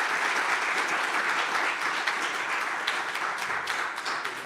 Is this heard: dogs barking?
no